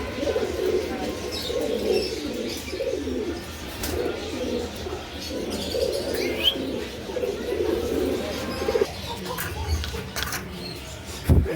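Pairs of fancy pigeons offered for sale coo in low, throaty bursts close by, repeating through most of the stretch over a busy background with faint chirps.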